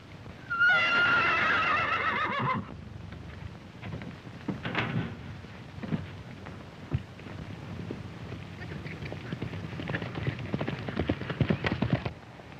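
Horse in an old western film setting gives a loud, close whinny at the start, followed by a steady patter of hooves and rustling movement that continues to the end.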